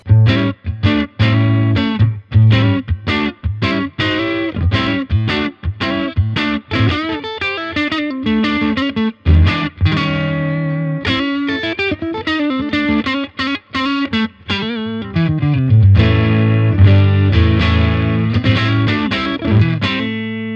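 An electric guitar plays through a cranked Fender Brownface-style tube amp emulated by a Surfy Industries Blossom Point, a lively run of chords and single notes with a warm, slightly gritty, compressed breakup tone, loud and continuous with brief pauses.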